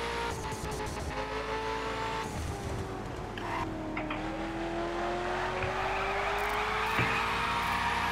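Engine revving and tires squealing from a car in the racing video game The Crew, played with a steering wheel, a continuous whine with pitch sweeping up and down as the car slides and accelerates.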